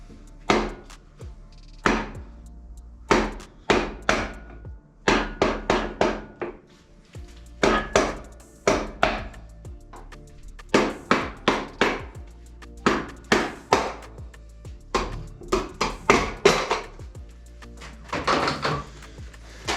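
A hammer strikes an ST engine during disassembly: sharp metallic knocks close by, falling in quick bursts of several blows with short pauses between them.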